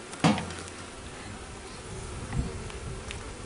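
Honeybees drone steadily around an open hive during an inspection, a close, continuous buzzing with a sharp knock near the start and a softer thump later; no one speaks.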